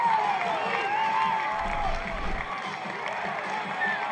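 Stadium crowd noise from fans at a professional ultimate frisbee game on a rainy night, a steady roar of cheering that stays loud throughout with some shouting mixed in.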